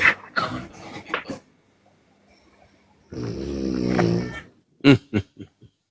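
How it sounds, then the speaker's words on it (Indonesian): A person snoring indoors, one long rasping snore in the middle of the clip, with people talking before and after it. "Nonton TikTok ngorok."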